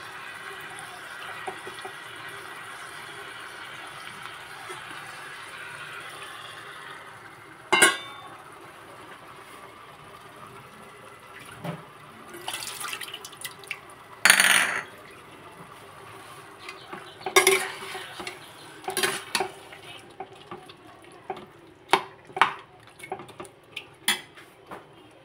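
Marinated chicken going into a pan of hot oil and being stirred, with sharp clanks and scrapes of utensils against the pan over a quiet background, growing more frequent toward the end.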